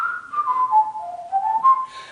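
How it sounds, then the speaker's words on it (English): Pucker whistling through rounded lips, a clear melodic tone that wavers and slides in pitch over about two seconds, near and alone with no talk. "I'm talking about pucker whistling like I do."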